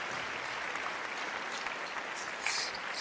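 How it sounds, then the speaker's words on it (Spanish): A church congregation applauds during a Spanish-language sermon, a steady wash of clapping heard from a distance across the room, moderately quiet and continuous. "den un aplauso al Señor"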